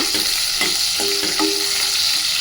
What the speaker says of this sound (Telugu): ఇవి ఎక్కువ వేగకూడదు కొంచెం ఇట్లా ఒక టూ త్రీ మినిట్స్ చేసేసి